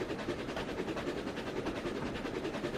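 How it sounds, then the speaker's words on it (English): A freight train in the simulator Trainz 2019 rolls steadily past on the C&O Hinton route, a continuous dense rumble and rail noise at even loudness throughout, with no voices. "there's our 5 minutes of watching this train just roll on its way through"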